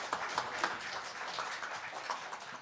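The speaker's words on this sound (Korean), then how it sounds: "첫 번째 발표하는 노승용 교수께 격려의 박수 부탁드리겠습니다" Audience applause for the first presenter at a seminar: scattered, fairly faint clapping that keeps going steadily, with a few sharper individual claps standing out.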